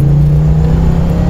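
A 1990 Ford Mustang 5.0 engine heard from inside the car, a loud, steady low drone with a strong deep hum as it pulls, heavy and close with no voices.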